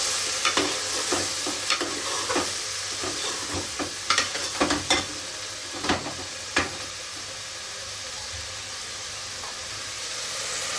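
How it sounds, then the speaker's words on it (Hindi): Potatoes and green onions frying in oil as a spoon stirs them, a continuous close sizzle broken by repeated sharp scraping and clanking strokes against the pan. "अब हम इसमें डालेंगे आलू और हरी प्याज। अब इसे करेंगे अच्छे से मिक्स।"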